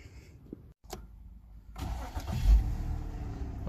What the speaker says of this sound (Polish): Odpalam auto